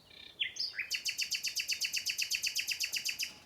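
A bird sings a rapid, rhythmic series of high chirps, about twenty evenly spaced notes after a few opening whistles, clear and fairly close against a quiet background.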